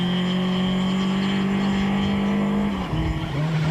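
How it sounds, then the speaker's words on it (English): A Volkswagen Polo rally car from 2001 climbs a long uphill rally stage, its engine droning loud and steady before a gear change drops the pitch briefly and it pulls on again. "Adrian Karth and Rickers Ferree start the long uphill on Stage 5 with the Polo player."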